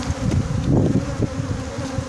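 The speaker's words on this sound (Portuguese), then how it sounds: "sacudir bem as abelhas" Honey bees buzz loudly and steadily as a hive frame is shaken during a colony split, a dense close swarm drone with no talk.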